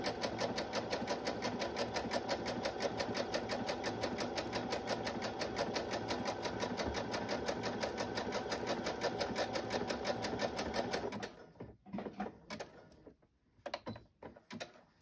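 A sewing machine stitches across the top of a fabric pocket in a steady, continuous close-up run for about eleven seconds, then stops, leaving a few faint handling clicks and rustles.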